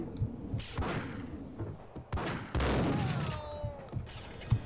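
Gunfire in the Max Payne video game, a burst of several sharp shots and thumps with a rapid, uneven rhythm, loud and close, mixed with game ambience and no talking.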